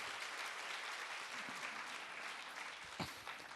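Sustained applause from a church congregation at a Sunday evening service, a dense steady clapping that fills the whole stretch at an even, moderately loud level.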